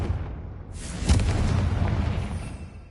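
A Confringo blasting spell detonates in Hogwarts Legacy, a deep booming explosion that swells after a brief rush and then rolls off slowly, loud and close with no talk over it.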